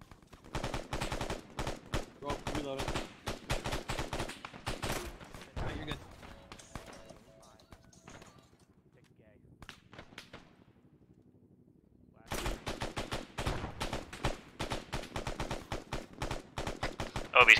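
Rapid gunfire in an Arma 3 marine operation, dense cracking bursts of automatic fire near and loud, breaking off into a quieter lull with talk before the shooting resumes.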